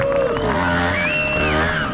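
Crowd at a 2024 adventure motorcycle season opening with motoball, cheering and whooping loudly in a steady, continuous roar of voices with a few rising shouts standing out.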